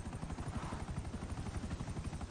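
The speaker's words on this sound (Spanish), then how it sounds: "pongo gas al helicóptero" A helicopter flies in Grand Theft Auto V, its rotor producing a rapid, steady thumping chop, moderately loud and continuous.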